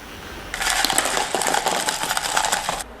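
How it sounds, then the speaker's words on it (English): An electric milk frother makes a steady high-pitched whir that starts after a brief pause and runs continuously for a few seconds, close and fairly loud, then cuts off. "Now use the milk frother and froth until caramel brown in color."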